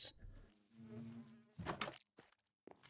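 An iron bee in Minecraft gives a faint, short buzzing drone, followed by a few soft clicks and brief noises in a quiet game scene.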